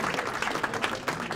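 Brief burst of audience applause at a congressional breakfast event, dense clapping from a crowd filling the short moment.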